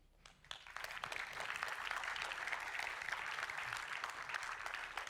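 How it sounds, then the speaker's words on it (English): Applause from a conference audience thanking sponsors at Cloud Native Days Austria, building quickly into steady, even clapping that carries on without talk over it. "So a big round of applause."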